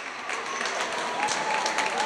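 A basketball arena crowd applauding a player leaving the court on a substitution, steady moderate clapping throughout, with a commentator talking over it.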